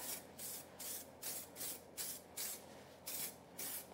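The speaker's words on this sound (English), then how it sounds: "give it a bit of a spray with this" Short bursts of aerosol spray cleaner hiss onto a Lambretta scooter part, about eight quick sprays in a steady rhythm, close and fairly loud with brief pauses between.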